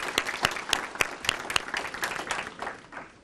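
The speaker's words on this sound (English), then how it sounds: "So can you just give yourselves another round of applause," Students at a 2019 high school mock trial competition applaud in a room, a steady patter of many hands clapping at moderate loudness with a few sharper claps standing out, fading slightly toward the end.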